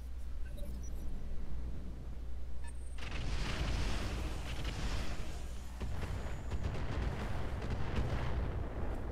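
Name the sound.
artillery barrage hitting a Cataphract mech, from a video game (Roguetech)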